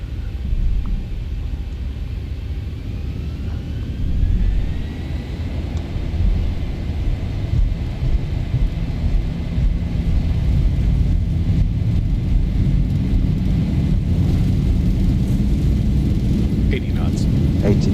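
Boeing 737-800 engines in the ZIBO flight simulator spool up for takeoff, a heavy low rumble building and thickening while a thin whine slowly climbs above it.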